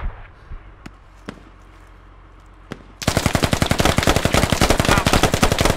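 Automatic gunfire in a squad-based shooter game, a few sparse distant shots, then a sudden loud sustained burst of rapid fire lasting several seconds.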